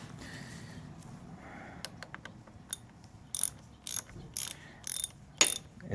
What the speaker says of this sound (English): Right now I'm in the process of taking off that screw.